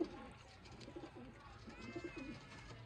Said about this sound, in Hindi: ये वो कबूतर है दोस्तों जो सालों से परफॉर्मेंस में पहले नंबर पे हैं, छत वाले